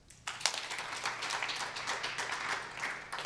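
An audience of about 200 people at a talk on gun violence breaks into applause that starts abruptly and continues as steady, moderately loud clapping for a few seconds, with no talk over it.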